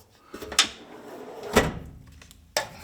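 Three sharp metallic drawer sounds from a Stanley STMT1-74306 tool box, each a sliding rattle ending in a clack, spaced about a second apart in a quiet room.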